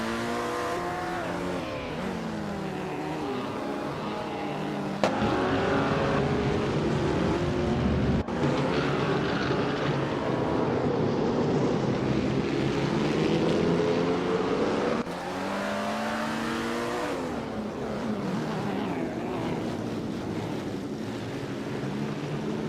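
Racing game engines roar steadily and loudly, including a 1938 Mercedes-Benz W154 with a powerful supercharged engine, a dense continuous drone shifting in pitch as cars pass, with a few abrupt cuts.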